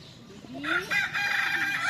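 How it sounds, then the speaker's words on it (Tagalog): A Brahma chicken, a breed with feathers down to its feet, lets out a short, fairly faint crow with some clucking, alone and without talk. "Yan po ang sinatawag ma'am na Brahma chicken"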